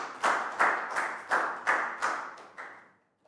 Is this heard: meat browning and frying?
no